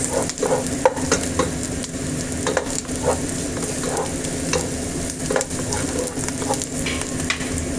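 Garlic and onion sautéing in a pan, a constant close sizzle and crackle with repeated spatula stirring scrapes throughout, no voices.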